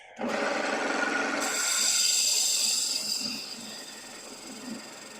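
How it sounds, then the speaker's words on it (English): Wood turning on a lathe as a sharp bowl gouge rounds out a bowl, a steady hissing, rasping cut that starts abruptly, brightens, then settles into a softer scraping whir with faint intermittent knocks. "So just going to round it out with the bowl gouge"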